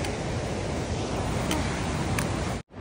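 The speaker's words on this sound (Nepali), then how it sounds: "खोलाको बगरमा साउन्ड सुनिरहेछौँ" A mountain river rushes over its stony bed on the Manaslu Circuit trek in Nepal, a broad, steady roar of flowing water heard up close, ending in a brief cutoff.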